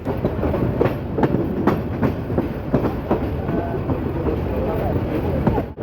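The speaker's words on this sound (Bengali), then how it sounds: "কিছুক্ষণের মধ্যে আমাদের ট্রেনটি ভৈরব বাজার সেতুতে উঠবে।" A passenger train heading onto the Bhairab Meghna railway bridge in Bangladesh, heard loud from on board, with a constant rumble and a rhythmic clickety-clack of wheels over rail joints.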